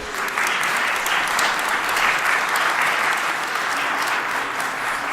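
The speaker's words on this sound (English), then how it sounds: "let's take a moment and get a round of applause to all these individuals" A crowd applauding steadily, dense clapping that holds at an even level throughout.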